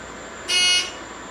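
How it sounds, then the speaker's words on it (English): Single short electronic beep from an elevator going up to the eighth floor of a Nebraska tower, a steady tone of about half a second over a quiet room hum. "It has to beep."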